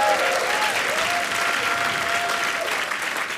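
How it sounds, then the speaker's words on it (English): Steady, dense applause from a large stand-up comedy audience fills the space, with a faint voice rising briefly through the clapping. "Give him a round of applause"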